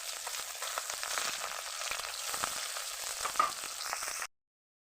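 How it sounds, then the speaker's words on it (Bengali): Tengra fish frying in hot oil, a steady close sizzle and crackle running evenly for about four seconds before cutting off abruptly, with no voices. "সম্পূর্ণভাবে ভাজা হয়ে গেছে"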